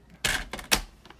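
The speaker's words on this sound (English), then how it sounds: "we're going to cut it at 2 inches wide." Olive foil paper is cut into a 2-inch-wide strip, giving two or three sharp, quiet snips or slices spaced close together in a brief, otherwise quiet moment.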